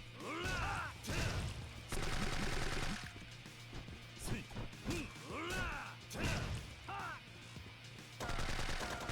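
Bursts of SMG gunfire in the Yakuza 3 video game, rapid repeated shots mixed with impacts and crashes over a steady music bed, heard in several clusters.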